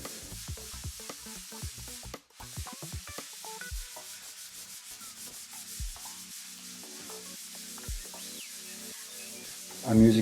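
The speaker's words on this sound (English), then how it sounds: "I've just got some MDF board here which I'm sanding with some 220 grit sandpaper" Steady rasping of 220-grit sandpaper rubbed back and forth over an MDF board, close and continuous, with occasional soft knocks and a brief pause partway through.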